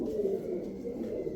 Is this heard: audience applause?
no